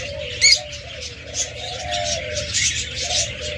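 Caged budgerigars, cockatiels, doves and lovebirds at a bird shop chirp and coo together in a steady, busy chorus, with one sharp nearby chirp standing out early against softer overlapping calls.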